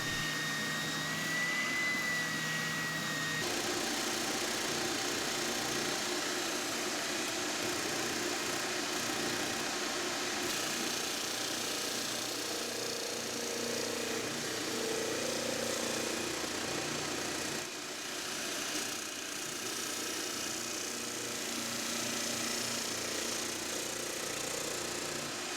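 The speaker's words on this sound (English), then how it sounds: "then we'll use the spindle sander and the disc sander again to take it down." Spindle sander and disc sander shaping wood for a Moxon vise, a continuous whirring motor drone with shifting grinding tones as the workpiece is pressed against the abrasive, steady and fairly close.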